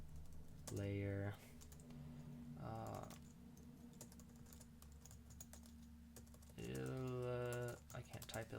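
Computer keyboard typing as Java code for a chess application is entered: steady, close clicking keystrokes continue throughout, with brief stretches of someone talking over them.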